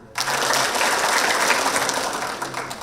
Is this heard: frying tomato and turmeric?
no